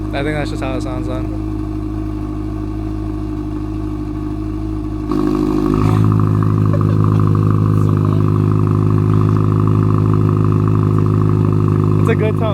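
Deep, throaty engine idling of a 2022 Subaru WRX with a valved exhaust, then stepping up to a louder, rougher rumble with revs that holds steady; no talking.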